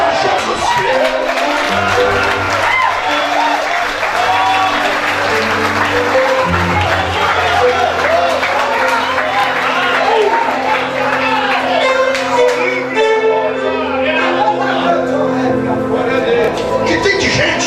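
A church congregation breaks into sustained applause and cheering during a Portuguese-language sermon, dense clapping from a large crowd held steady throughout while a voice carries on over it.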